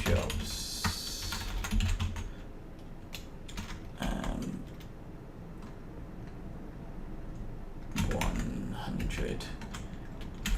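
Rapid, steady clatter of a computer keyboard as code is typed, keys clicking in bursts near and clear, with brief pauses between runs.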